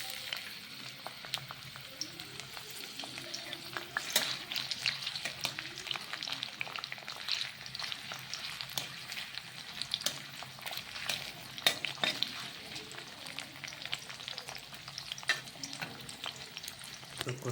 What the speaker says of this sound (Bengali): তেল মোটামুটি গরম হয়ে গেছে, পেঁয়াজগুলো এখন দিয়ে দিই